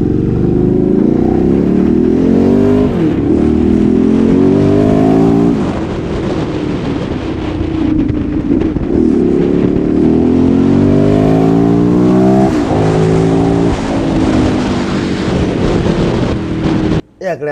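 A Ducati 848 motorcycle engine revs and accelerates repeatedly, loud rising sweeps climbing through the gears with wind buffeting the microphone, dropping off abruptly at the end.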